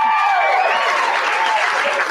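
Audience applause and cheering from single people answering a show of hands at a comedy social hour, a steady dense clapping wash that holds loud for about two seconds.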